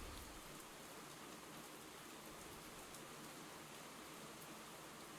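Steady rain ambience set for a tabletop pirate game session, a constant dense hiss of falling rain with no breaks, fairly quiet and even throughout with no voices.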